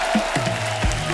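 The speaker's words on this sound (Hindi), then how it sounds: "गुंजन जी और विभू जी का जोरदार तालियों से स्वागत हो जाए।" Audience applause welcoming guests on a Hindi TV comedy show, a steady wash of clapping under music and tonal sounds, filling the brief moment.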